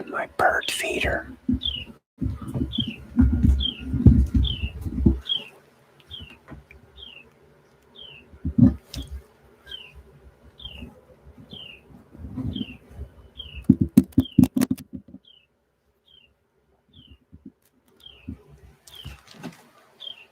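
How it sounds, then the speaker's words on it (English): A bird perched at a feeder right outside a door keeps up a steady series of short, high chirps, while a person's soft voice and handling noises come and go nearby. "He's sitting right out my door here, just chirping away, singing a song."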